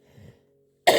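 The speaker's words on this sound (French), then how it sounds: "Attendez, je tousse un coup." A brief, faint sound at the start is followed by a single sharp, loud cough from a woman with a cold near the end, close to the listener.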